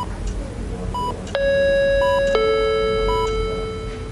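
A telephone being dialed, with short electronic keypad beeps and then longer sustained dial tones that change pitch partway through, all heard over a background of low noise and speech.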